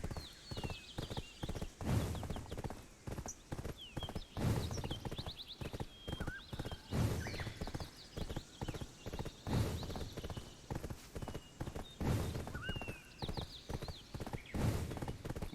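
Rhythmic horse hoof clip-clop from the video game Black Desert, a steady galloping beat of repeated hoof strikes with occasional neighs and whinnies layered over it, moderately close and continuous.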